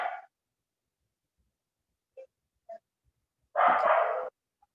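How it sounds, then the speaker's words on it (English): A dog barks once sharply, gives two short soft yips, then lets out a longer loud bark, each sound isolated against silence and close by. "The dog has a question"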